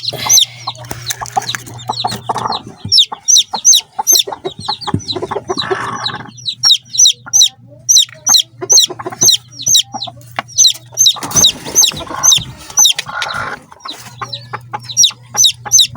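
Newly hatched chicks peep in a close, loud chorus of rapid high-pitched cheeps, repeated rhythmically throughout with brief pauses, while a low hum sounds intermittently underneath.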